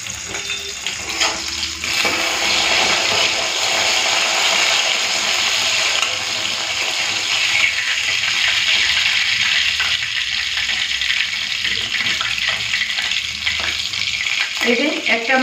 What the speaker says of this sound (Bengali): এই যে একটা মাছ ভাজা হয়ে গেছে